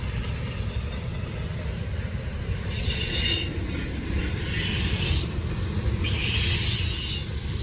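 Norfolk Southern freight train with BNSF trailing and Canadian National mid-train DPU locomotives rolls past steadily on the Charlotte District, a continuous rumble of railcars with recurring bursts of high wheel squeal.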